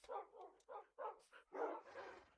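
Dogs in the Minecraft video game giving a string of short barks and yips, about six quick bursts in uneven rhythm, fairly faint, ending in a slightly longer whimpering bark.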